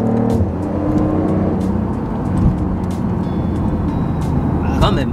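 BMW i8 supercar with 374 horsepower downshifting through its paddle shifters: a steady close engine drone with a short rising rev blip near the end.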